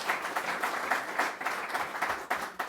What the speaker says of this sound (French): ça vaut une main d'applaudissement